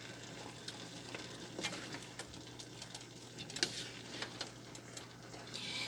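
Shrimp fried rice with eggs stirred in a hot pan: a steady soft sizzle runs throughout, broken by scraping and clicking stirring strokes at an irregular pace, close and fairly quiet, with no talking.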